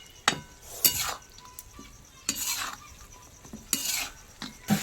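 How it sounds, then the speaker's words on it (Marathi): A spoon works through chicken and red chilli powder in a frying pan, scraping and clinking against the metal in a few separate strokes. A faint sizzle carries between the strokes, and no one speaks. "आता आपण फ्राईंग पॅनच्या चिकनमध्ये थोडंसं लाल तिखट घालूया आणि लाल तिखट घालून झाल्यावर ते आपण हलवून घ्यायचं मिक्स करायचं"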